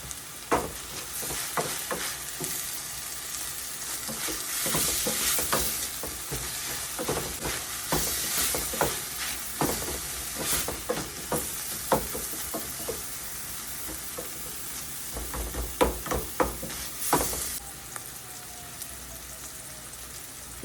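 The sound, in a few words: frozen cooked prawns frying with salt in a pan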